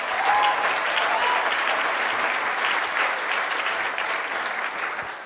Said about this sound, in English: So give her another big round of applause.